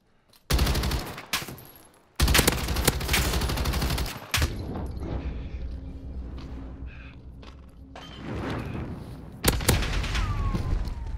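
Sustained loud bursts of gunfire in Call of Duty Modern Warfare, a player spraying shots at a wall in long rapid volleys with short pauses between them and no voices.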